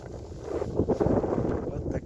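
Wind gusts during a late-April snowstorm in Sakha-Yakutia, a steady rushing roar that swells and buffets a nearby microphone with no clear pauses.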